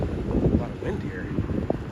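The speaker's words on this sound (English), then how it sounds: "A lot of wind here." Wind buffets the microphone outdoors along International Drive, producing a continuous low rumbling gust noise with small fluctuations throughout.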